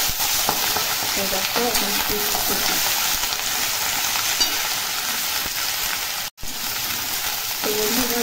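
Malabar spinach sizzles and crackles steadily in hot oil in a wok, with green chilli, onion and garlic already fried, while stirring scrapes in close; a voice speaks briefly over the frying.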